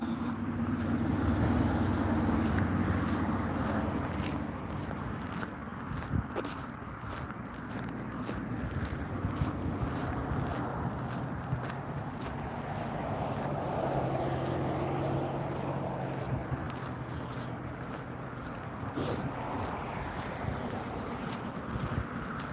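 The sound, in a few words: road traffic noise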